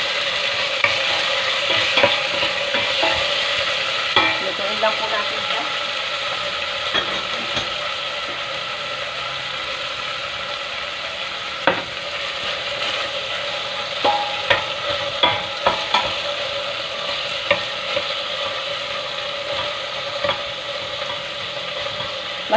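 Tomatoes being sautéed in a pan for sinigang, a steady sizzle broken by repeated scraping and clicking stirring strokes over a long stretch.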